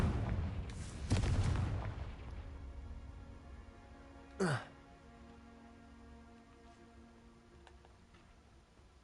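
A Confringo spell blast in Hogwarts Legacy, heard as a sharp booming burst early on followed by a brief swooping whoosh, with a faint game ambience between.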